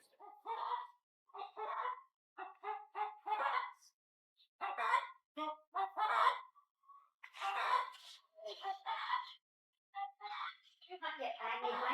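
Hens cluck in short, repeated bursts, fairly close and clear, with brief pauses between the calls and a busier flurry of clucking near the end.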